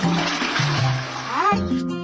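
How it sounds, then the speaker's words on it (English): A cartoon toilet flushes with a loud rushing, swirling gush of water, layered over bright sustained music tones and a rising whistle-like sweep near the end. "Remember to flush the toilet."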